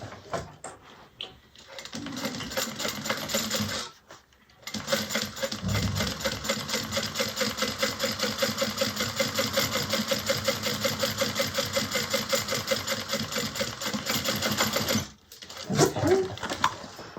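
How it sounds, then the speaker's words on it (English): Sewing machine basting fabric for a bag, a fast even mechanical chatter of stitches running for about ten seconds, framed by short bursts and pauses at the start and end. "Now we're going to sew that, or baste it 1/8 of an inch."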